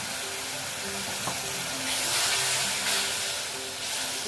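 Rajma curry masala frying in a pan just after a splash of water is added gives a steady, loud, hissing sizzle that swells and eases slightly, with faint stirring under it.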